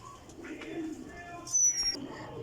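Sialkoti pigeons coo softly nearby in short, low murmuring calls, with a brief sharp chirp and light background noise over a couple of seconds.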